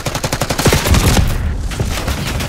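Rapid automatic gunfire in Black Ops 6 crackles loud and close, a dense stream of shots with heavier booming reports mixed in, continuous throughout.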